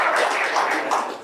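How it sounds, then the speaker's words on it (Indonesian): Short burst of audience clapping at a stand-up comedy competition, a dense patter of many hands heard up close, fading slightly toward the end. "Ya, tepuk tangan buat Bea Cukai Tegal."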